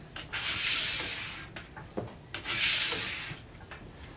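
A plastic scraper rasps wax off a ski base during hand waxing, sounding as two long, loud scraping strokes with short pauses and small knocks between them, close up with no talking.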